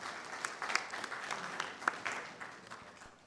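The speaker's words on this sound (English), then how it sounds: "let's give our distinguished president another round of applause" Audience applause for a president at an engineering institution event, a faint, scattered patter of clapping with a few distinct sharp claps, fading toward the end.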